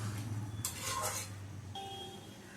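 Chilli fish coated with cornflour is stirred in a pan, making soft scraping and light clinks of a utensil against metal, quiet and close, with a faint sizzle underneath.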